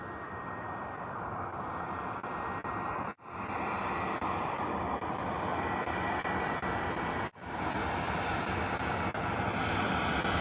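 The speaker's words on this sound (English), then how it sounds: "EasyJet Airbus A319 coming in from Faro this morning." An EasyJet Airbus A319 lands at Bristol Airport, a loud, sustained engine roar across the whole span with two brief dropouts, heard outdoors with no talk.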